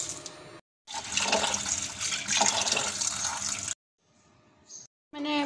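Water gushes steadily from a tap into a bowl of lentils set to soak, cuts off briefly, then runs again.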